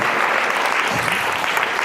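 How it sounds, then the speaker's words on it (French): Audience applause at a talk about Lourdes, a steady dense clapping that holds at an even level from start to finish. "On peut l'applaudir?"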